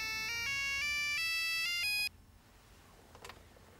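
A telephone's electronic ringtone plays a bright stepped melody for about two seconds, then cuts off abruptly, leaving quiet room noise and a faint brief click.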